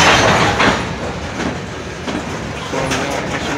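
A freight train led by a Norfolk Southern SD40-2 locomotive rolls past close by, a loud, continuous rumble with wheel clatter and rail noise that swells and eases slightly, with no talk.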